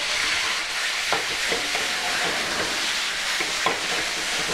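Tomato hits a hot pan with browned garlic, giving a loud, steady frying sizzle with occasional sharp pops and spatters throughout.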